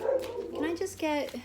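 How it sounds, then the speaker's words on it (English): A small dog yips and whimpers close by indoors at home, short high barks running together with a voice speaking over them for about a second and a half. "I apologize for the dog."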